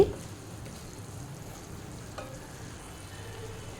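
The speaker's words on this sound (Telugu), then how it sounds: "వేసి మళ్ళీ ఒక రెండు నిమిషాలు బాగా కలపాలి" Chili powder being stirred into mutton curry in a pan, a soft steady scraping and faint sizzle with a brief clink of the spoon partway through.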